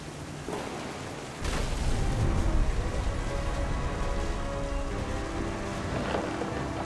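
Rainstorm in the video game What Remains of Edith Finch: a steady, dense hiss of heavy rain that swells suddenly after the first second and then holds at an even, full level with no talking.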